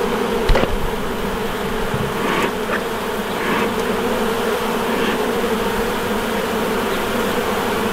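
Honey bees buzz steadily and densely throughout a hive inspection, a continuous close swarm drone with a few brief louder passes near the start.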